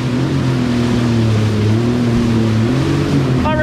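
A powerful jet ski engine roars on Subic Bay, loud and close, with throttle shifting pitch up and down over rushing water.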